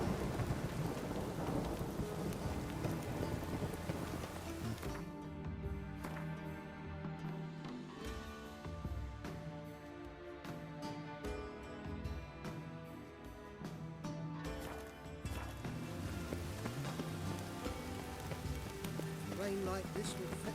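Rain and rolling thunder in the fantasy game The Witcher 3: Wild Hunt, a steady downpour with deep rumbles carrying through the whole stretch, with music and game sounds layered over it and no clear talk.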